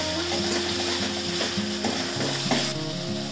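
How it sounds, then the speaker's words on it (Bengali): Tomato and ground spices fry in oil in a pan, a steady loud sizzle with scraping stir strokes running through it and no voices. "টমেটোটা তেলের মধ্যে নাড়াচাড়া করে একটু সব গুঁড়ো মশলাগুলো দিয়ে দিচ্ছি"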